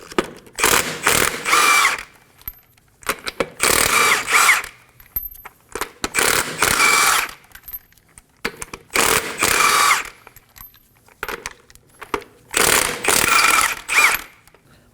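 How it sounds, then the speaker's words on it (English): Bursts of a power impact tool with a 21mm socket loosen the lug nuts on a Kia Sorento wheel: five loud rattling runs of about a second or more, split by short quiet gaps, close to the listener. "Using a 21mm socket, we're going to remove the lug nuts."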